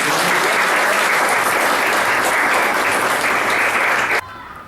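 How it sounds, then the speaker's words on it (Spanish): An audience applauds everyone after a pedagogical class exercise. The clapping is loud and sustained for about four seconds, then cuts off sharply, leaving a quiet room. "un aplauso para todos"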